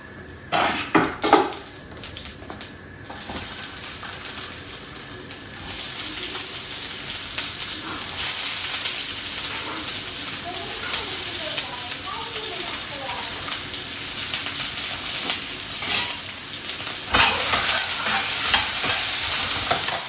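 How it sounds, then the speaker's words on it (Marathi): Whole cinnamon stick and cardamom pods dry-roast in a pan with steady stirring and a light sizzle, plus occasional scrapes and clinks of utensil on the pan, close up and continuous with no talk. "एक तुकडा दालचिनीचा आणि एक दोन तुक दोन इलायची घेतलेली आहे मी आणि हा आपण नॉर्मली जसा मसाला भाजून घेतो"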